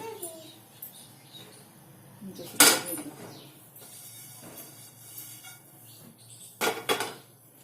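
A pan is set down on a lit gas stove, giving two sharp metallic clanks a few seconds apart over quiet kitchen background, with a faint voice in the room.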